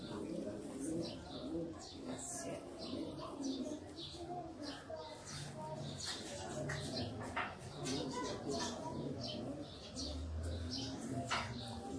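Sialkoti pigeons kept for sale coo softly in a faint, repeated murmur with occasional chirps, while someone talks over them.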